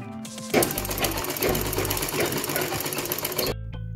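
Sewing machine running a short burst while stitching a blouse, a fast dense mechanical chatter starting abruptly and stopping after a few seconds, close and clear with no talking.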